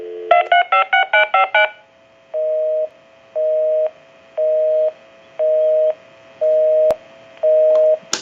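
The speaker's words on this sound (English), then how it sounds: "We can hang up and we'll hit redial." A repaired novelty Ferrari telephone redialing: a quick run of about six stacked DTMF keypad tones, then a pause and a steady series of evenly spaced single-pitch beeps, clear and close with no talking.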